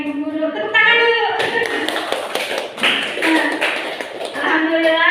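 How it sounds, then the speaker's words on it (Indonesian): Teachers at a school gathering clap their hands in quick bursts and patterned rhythms, mixed with voices and singing-like speech before and after, fairly loud and close. "Tepuk tangan dulu."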